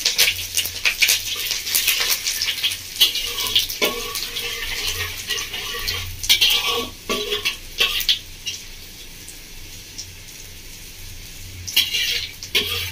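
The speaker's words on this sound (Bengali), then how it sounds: "এটা আমি ফোড়ন দিয়ে ভালো করে ভেজে নেব" Whole spices (panch phoron tempering) sizzle and crackle in hot oil for a Bengali bottle gourd and prawn dish, stirred with scraping strokes, loud and close with brief lulls.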